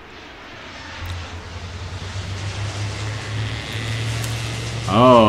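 Airplane engines in the airport-control video game Airport Madness Time Machine, a steady whooshing jet roar that gradually swells and holds, with a low hum underneath and a short rising tone at the end.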